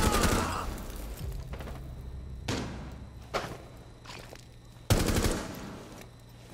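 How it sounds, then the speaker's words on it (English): Gunfire in Rainbow Six Siege, several sharp bursts and single loud shots with gaps of quieter rumble between them, close and punchy, with no talking. "Yeah, somebody was shooting me."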